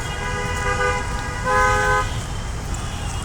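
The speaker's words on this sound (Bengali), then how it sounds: "দেখেন রাস্তায় আজকে অনেক জ্যাম।" A traffic jam on a waterlogged Dhaka road by the main gate of the Parliament House in the rainy season: a car horn blares for about two seconds, swelling louder midway, over a steady low rumble of engines.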